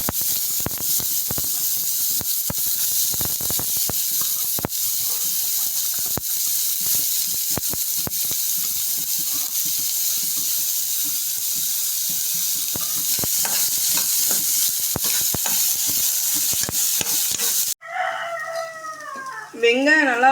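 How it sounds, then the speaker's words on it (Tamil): Onions frying in hot oil in a kadai while making an egg poriyal, a continuous close sizzle with occasional stirring clinks and scrapes, followed near the end by a rooster crowing in the background. "வெங்காயம் நல்லா வதங்கிடுச்சு."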